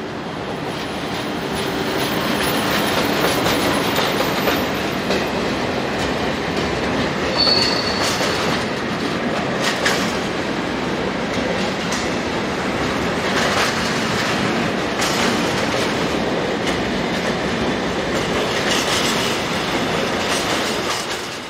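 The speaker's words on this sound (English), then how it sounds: "This is 155095 on a short freight for nearby Grimberg Yard." A short freight train led by a class 155 locomotive rolls steadily past on the line toward a nearby rail yard, its loud continuous wheel rumble and squeal filling the whole stretch without any talk.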